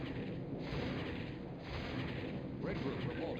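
Ion cannons firing rapidly in the Star Wars: Rebellion strategy game, heard as steady rumbling booms and bursts within a constant battle roar, fairly loud and continuous.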